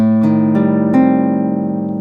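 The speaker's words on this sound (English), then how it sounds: "we start off with a minor 7 and lower the 5 a half step to a flat 5" Notes of a guitar minor 7 flat 5 chord plucked one after another, three quick attacks that then ring and sustain together, close and clean.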